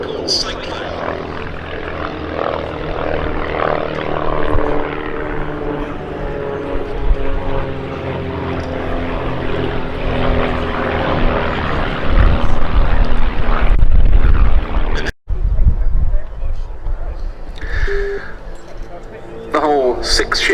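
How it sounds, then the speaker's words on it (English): Several aerobatic aircraft fly past in formation at the Duxford summer air show, their engine drone loud and continuous overhead, cutting out briefly near the end. Speech is present. "in come the other aircraft, with 3 in formation and the 4th barrel rolling around their smoke"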